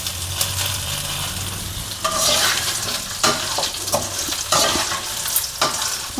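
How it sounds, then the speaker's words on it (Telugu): Seeds fry in a pan for an old-style green chilli chutney, a loud close sizzle punctuated by repeated spatula scrapes and stirring knocks, no voice. "కొంచెం దోరగా బాగా కొంచెం కలర్ వచ్చేదాకా వేయించుకుందాం ఈ గింజలన్నీ."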